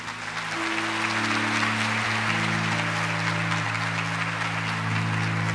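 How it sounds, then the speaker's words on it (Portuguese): A church congregation claps at a Catholic service, a steady wash of applause lasting several seconds over sustained keyboard chords. "Aplaudamos a palavra de Deus."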